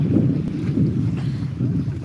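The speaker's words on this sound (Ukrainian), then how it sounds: "Так, а ми з вами зараз пройдемося по воді" Footsteps slosh through clear, shallow sea water at an Odesa beach, a soft rhythmic churning close by with wind buffeting the microphone throughout.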